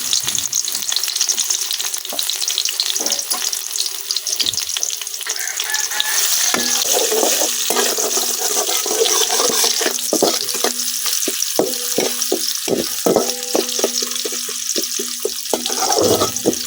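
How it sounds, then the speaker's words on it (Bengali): Raw onion fries in hot oil in a wok in a village kitchen, a steady close sizzle with repeated scraping and stirring clatter running throughout. "তেল গরম হয়ে গেছে, তেলের মধ্যে দিয়ে দিতেছি কাঁচা পেঁয়াজ।"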